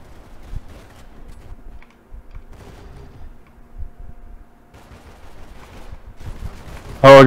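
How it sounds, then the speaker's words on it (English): Dual shotguns fire in a Roblox game: a single loud, sharp blast bursts in at the very end after a stretch of quiet, low background sound. "Oh, I got dual shotguns."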